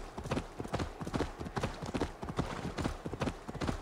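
Horse hooves clip-clopping at a fast gallop through a town in the video game Assassin's Creed Valhalla, a steady rapid rhythm of close, loud hoofbeats with no talk.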